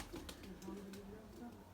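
Pigeons released from a loft, with soft low cooing close by, a few wing flutters and quiet background voices.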